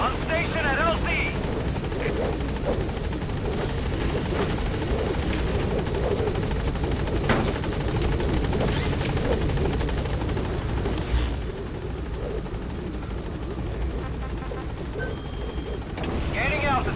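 A support helicopter arrives at a landing zone in Metal Gear Solid V, its steady rotor thrum and mechanical whine loud and continuous throughout, with a radio voice talking over it.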